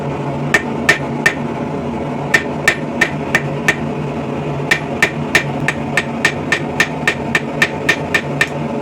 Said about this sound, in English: Now I'm just going to go and put a corner of this on the anvil here.